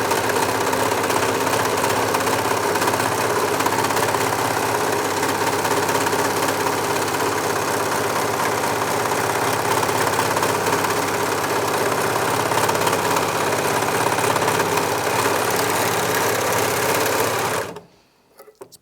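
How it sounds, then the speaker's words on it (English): A Janome 6234XL overlocker edges a single layer of fleece in a steady, fast mechanical whir that runs unbroken and close for about seventeen seconds, then stops abruptly. "you can just edge it with an overlock"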